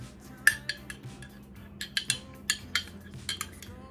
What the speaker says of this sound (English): I'm just gonna take a spoon, and we're just gonna spoon some of our sauce.